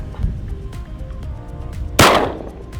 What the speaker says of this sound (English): you can shoot guns at sticky notes